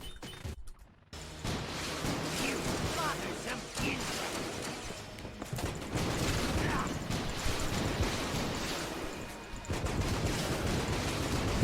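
Dense, continuous gunfire from the Commando weapon in the Enter the Gungeon video game, rapid automatic shots mixed with crashes and explosions, running steadily for about eleven seconds with a voice faintly underneath.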